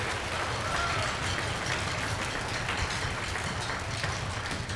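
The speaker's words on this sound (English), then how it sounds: "I think all 3 of them get 1 more round of applause for being so great." Concert audience of a 6th grade school concert gives a round of applause for three soloists, a dense, hissing patter of many hands that stays steady and moderately loud throughout.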